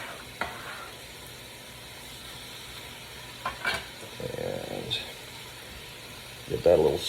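Stew meat for kale soup sizzles softly in a pan, a faint, steady frying hiss broken by a few sharp utensil clinks and stirring scrapes near the end.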